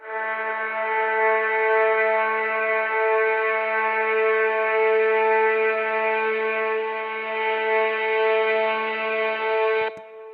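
Terminator-style score synth with echo and an always-rising auto filter: a sustained, harmonically rich droning tone held for about ten seconds with subtle movement, then cut off sharply by a click, leaving a faint echoing remnant.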